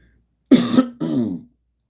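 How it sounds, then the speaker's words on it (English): Two quick, rough throat clearings, close and fairly loud, separated by a brief pause, with silence around them. "clear my throat."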